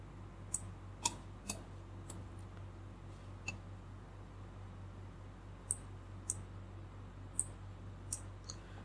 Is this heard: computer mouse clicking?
yes